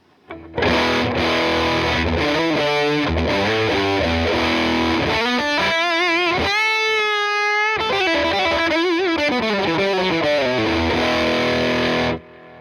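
Electric guitar played through a Boss Nextone combo amp with the drive turned fully up gives heavily distorted chords and sustained bending notes, loud and saturated, with audible hiss between phrases.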